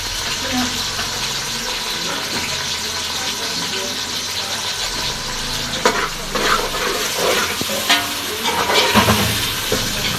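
Green chilli, peas and carrot with mint frying in a pan for kushka, a steady broadband sizzle with scraping stir strokes growing busier toward the end.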